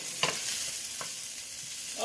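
Onion, garlic and ginger stir-frying for shrimp and vegetable noodles, a bright continuous sizzle with a couple of short scrapes of a spatula against the pan, close by.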